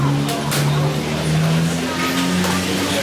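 Car traffic on a busy street in central Kuala Lumpur, with engines humming and revving up close as vehicles pass, and a faint murmur of voices in the mix.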